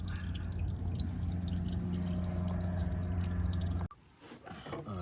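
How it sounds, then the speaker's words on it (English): Transmission oil dripping from a 2016 Nissan Sentra CVT during valve body removal, a steady close trickle under a constant hum that cuts off abruptly near the end. "I'm just waiting for the oil to finish drip"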